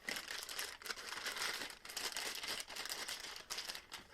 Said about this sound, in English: I'm going to fold the bag over